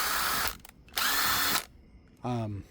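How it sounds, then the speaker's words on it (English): A Hitachi impact driver spins in three short bursts, loud and close, with gaps between them, working on carpet in a Silverado truck being revived; a brief voice sound follows the last burst. "This particular drill, it's my Hitachi, this is actually my Impact, spins faster in forward than it does in reverse."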